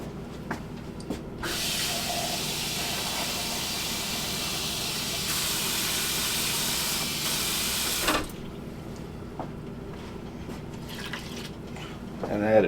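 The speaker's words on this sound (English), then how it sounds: "So I'm gonna go ahead and add some more broth to this" Broth pours steadily into a pot of smoked chicken stew, a continuous splashing rush lasting several seconds before stopping, with faint kitchen noises around it.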